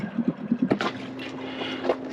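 A brand-new Yamaha outboard motor runs on a boat during its break-in, a close, steady engine drone with a few uneven bumps and splashes at the start.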